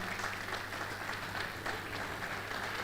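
Audience applause at a valedictory programme honouring a retiring professor, a steady wash of clapping from a crowd that holds at an even level for a few seconds, with a low hum underneath.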